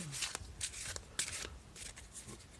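Cards for a reading in the old Tarot de Marseille style being shuffled close by, with several quick riffling bursts and crisp papery snaps spread over a couple of seconds, nobody talking.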